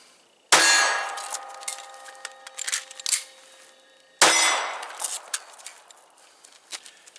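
A Glock 23 Gen4 pistol fires two sharp, ringing shots at an outdoor range, several seconds apart, each followed by a fading echo and small metallic clatters of handling and reloading.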